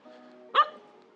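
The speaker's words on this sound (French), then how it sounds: "un petit chien qui veut être dans la vidéo" A small dog gives a single sharp bark at close range, standing out briefly over a quiet room background.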